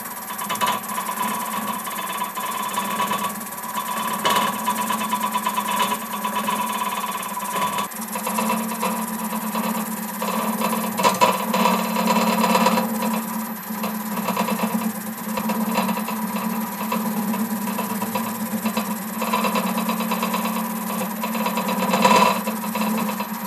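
A Sovereign Ultima pottery wheel spins steadily while a turning tool hollows out a salad bowl. A constant motor hum and drone runs throughout, with scraping and chattering of the tool against the piece, close and fairly loud, without speech.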